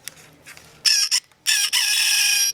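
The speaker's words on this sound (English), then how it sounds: "Rooster." A toy's electronic rooster crow plays, a bright cock-a-doodle-doo in two bursts after a few faint clicks, loud and close with no talking.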